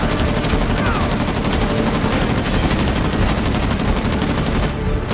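Dense, loud gunfire from the video game Uncharted: The Lost Legacy, rapid continuous bursts of automatic shots filling the whole stretch without pause.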